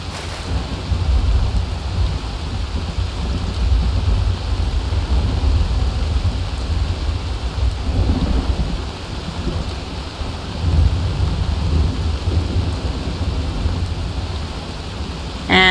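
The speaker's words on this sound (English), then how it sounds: "Oh, lovely, it's raining." Steady rain with rumbling thunder in the Winterhold area of a fantasy video game, a continuous close wash of rainfall over deep low rolls of thunder, with no talking.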